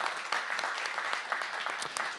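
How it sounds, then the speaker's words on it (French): Audience applause at an aeronautics industry panel event, a dense, steady clapping from a room full of people lasting a couple of seconds, fairly loud and even with no talking over it. "on peut l'applaudir"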